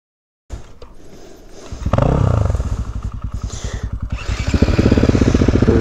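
An off-road dirt bike, a KTM 350 EXC-F or Husqvarna FE 450, rides on single track. Its engine starts up close, then climbs into loud, throbbing revs that rise and fall rhythmically as the bike pulls away.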